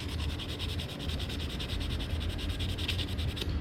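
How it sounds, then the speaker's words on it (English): 320-grit sandpaper scrubs surface rust off Royal Enfield Himalayan brake parts, a steady, close, rhythmic rasping that continues without a break and without talk. "320 grit sandpaper. Getting rid of the surface rust"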